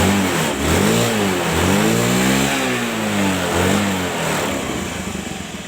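A car engine is revved hard with repeated throttle blips while a battery electrical fault is being checked, rising and falling in loud, close surges with no talking over it.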